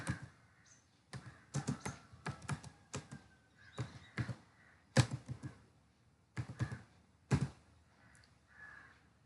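Someone types WhatsApp Web on a laptop keyboard, producing irregular bursts of close, crisp keystroke taps separated by short pauses.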